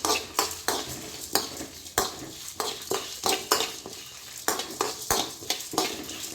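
Food frying and being stirred in a pan, a spiced tomato rasam preparation: steady sizzle broken by repeated scraping strokes of a spoon against the metal, close and fairly loud, with no voices.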